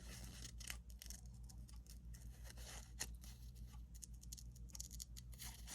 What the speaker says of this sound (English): you can just fussy cut around this butterfly